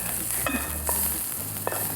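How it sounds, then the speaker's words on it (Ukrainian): Food sizzles loudly in a hot pan while cooking Ukrainian stuffed cabbage rolls, a close, steady crackle with a few scraping stirs and clinks. "Ммм, як шкварчить."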